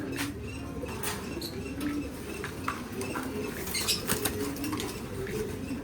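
Red check pigeons in a loft, giving soft low coos with bursts of wing flapping and faint chirps in the background, close and continuous.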